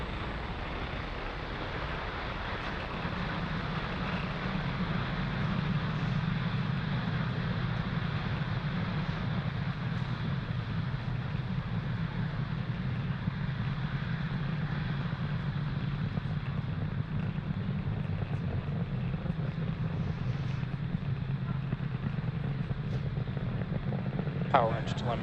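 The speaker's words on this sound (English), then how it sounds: "Falcon 9 has successfully lifted off from pad 40" A SpaceX Falcon 9 rocket climbs after liftoff from pad 40, heard as a broad, continuous low rumbling roar that holds steady and distant for the whole stretch, with voices calling out over it.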